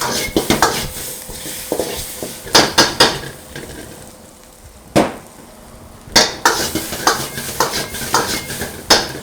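Chili chicken is tossed rapidly in a metal wok over high heat, a close series of loud clanging scrapes and clatters in quick bursts, with a soft sizzle beneath and short pauses between tosses.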